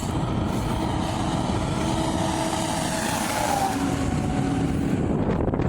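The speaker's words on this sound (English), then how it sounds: "This truck is loud." A loud truck passes near a rural road and railroad crossing, heard from a bike ride between Chippewa and Cadott, with a steady, heavy engine and tire roar filling the whole stretch.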